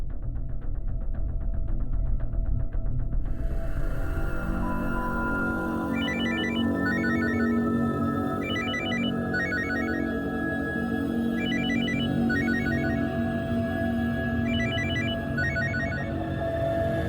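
A mobile phone rings in a home during a crime drama, repeated bursts of electronic ringtone chiming steadily over a low hum, with an earlier buzzing before the tone starts.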